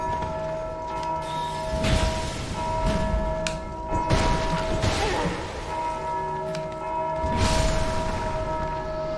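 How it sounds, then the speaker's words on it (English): Bells ring in a video game, with sustained, overlapping tolling tones that hold steady throughout, mixed with low booming thuds and ambient game noise. "Now they're ringing the bells."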